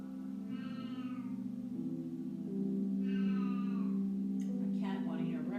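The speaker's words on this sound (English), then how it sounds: "A cat wanting your breakfast." A cat meows twice in a home setting, each call drawn out and clear, rising over a steady low background hum with a voice and rustling near the end.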